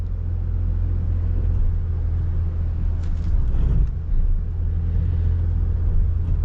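2023 Nissan Pathfinder Rock Creek creeping uphill off-road in sand mode: a steady, low engine rumble close by with faint rustling and crunching over the top, continuous and fairly even throughout.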